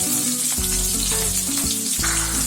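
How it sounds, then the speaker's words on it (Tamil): Loud, close sizzling of onions, green chillies and curry leaves frying in hot oil for chutney, with intermittent stirring and scraping sounds; no voices. "எல்லாத்தையும் போட்டு நல்லா செவக்க வதக்கிங்க"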